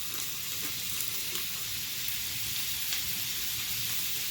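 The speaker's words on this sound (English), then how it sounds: "Got our sausage cooking up here. We'll go ahead and throw in our ham." Sausage and diced ham fry in a pan, a steady close sizzle with a hissing crackle and occasional soft pops from the fat, continuous and even throughout with no talking.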